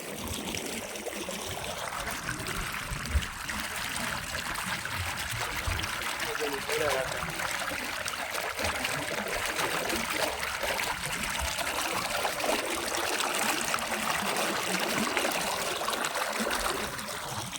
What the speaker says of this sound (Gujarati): આ બેગમાંથી પાઇપલાઇન નાખી અહીંયા પાણી લીધું છે